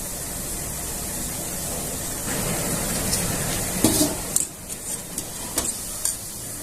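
Barag dough sizzling and frying in hot oil, with a steady hiss that swells partway through, then sharper pops, crackles and stirring clatters near the end.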